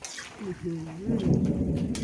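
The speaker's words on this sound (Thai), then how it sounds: "ฟ้าก็ร้องลมก็แรง วันนี้ ฝนก็ตก" A thunderstorm with strong wind and rain rolls in during outdoor cooking of crispy pork cracklings and fried garlic. A brief spoken voice comes first, then deep rumbling thunder swells and holds over a steady hiss of rain.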